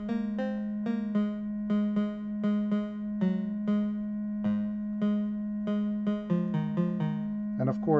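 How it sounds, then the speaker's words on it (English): A Chipz chip module patched through an LM13700-based modular VCA plays a bright, buzzy square-wave synth tone in a rhythmic sequence of short repeated notes, each with a sharp attack, ending in a quick trill. "I will just do a random sound from the Chipz chip module"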